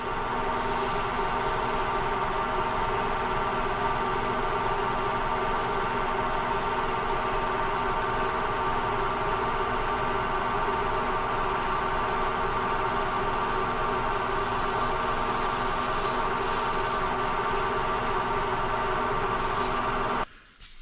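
A wood lathe spins at about 1,000 rpm while finish is buffed into a spalted timber vase: a steady mechanical hum and whine runs continuously for about twenty seconds, even in pitch, then cuts off abruptly at the end.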